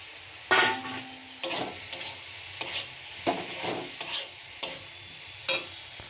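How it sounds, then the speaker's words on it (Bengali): Fried potatoes are stirred into sizzling mustard masala in a pan, with a steady frying hiss under a series of about eight sharp scraping stirs spaced roughly every half second to second, close and without talk. "নিয়ে দিয়ে দেবো এই যে ভাজা আলুগুলো দিয়ে দেবো।"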